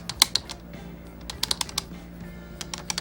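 Keys clack in quick irregular bursts as someone types on a freshly cleaned computer keyboard, crisp, close and clear, with short pauses between runs.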